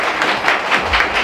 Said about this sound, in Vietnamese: xin một tràng pháo tay của các anh chị để cảm ơn nhiều các anh chị